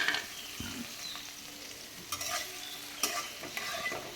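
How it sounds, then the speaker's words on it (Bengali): Onion, chili and chopped garlic fry in oil in a wok, a soft steady crackle broken by a few clinks and scrapes as the pan is stirred, fairly quiet and close. "এবার কড়াইতে পেঁয়াজ, মরিচ আর রসুন কুচি দিয়ে দিব।"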